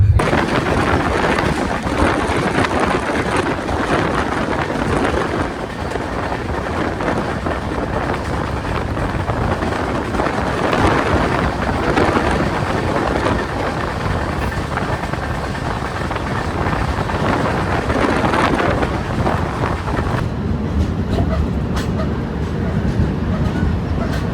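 The 12868 Pondicherry–Howrah SF Express runs after leaving Tiruvannamalai, a continuous loud rushing rumble mixed with wind noise that carries on without a break.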